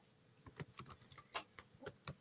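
Computer keyboard typing during an online group writing sprint, heard as faint, irregular clicks and taps scattered over a couple of seconds with no talk.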